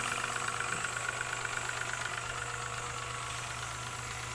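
A motorized disinfection sprayer at a piggery runs at a steady idle, its engine hum and faint knocking continuous and moderately loud throughout with no speech.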